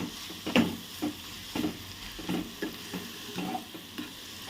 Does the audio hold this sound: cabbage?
yes